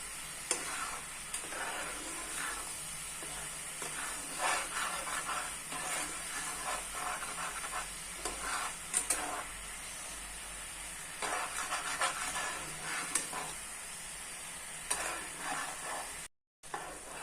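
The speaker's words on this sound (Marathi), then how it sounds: "आपल्याला असं हलवत राहायचं सारखं ढवळत राहायचं साखर आपली विरघळली पाहिजे" Sugar syrup for a peanut sweet stirred steadily in a pan: a constant soft hiss with repeated scraping strokes, moderately quiet and continuous for the whole stretch, broken only by one very brief dropout near the end.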